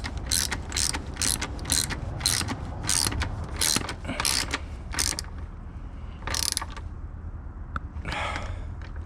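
A ratchet clicks in quick, rhythmic bursts up close as pulley bolts are tightened on a 2004 Marauder after the bolts were restored, with short pauses between the bursts of strokes.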